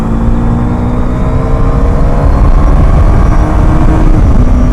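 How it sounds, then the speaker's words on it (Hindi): Motorbike engine pulling smoothly while riding, after a throttle body repair; a loud, steady low drone with a faint rising whine continues without a break and without talk. "आराम से खींच रही है बाइक भाई।"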